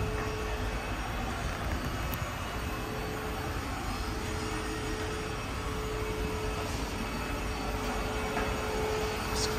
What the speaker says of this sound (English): Excuse me the noise, they are hoovering right now.